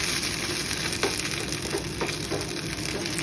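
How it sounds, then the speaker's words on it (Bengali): Kharkol leaf paste frying in mustard oil, heard as a loud continuous sizzle close to the pan with a few soft stirring taps scattered through it; nobody speaks. "সর্ষের তেলের মধ্যে এই পেস্টটাকে আমি দিয়ে দিলাম। দিয়ে এবার দেখো এরম ভাজতে থাকবো।"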